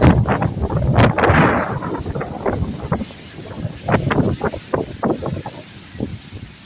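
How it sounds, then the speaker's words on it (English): Strong gusty wind buffets the microphone in loud, uneven bursts, roaring and fading with no voices. "Very, very windy."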